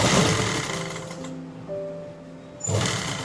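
A sewing machine runs a straight seam on a trouser pocket, a close, continuous whirring hum with a short quieter, more tonal stretch in the middle before the full stitching noise returns.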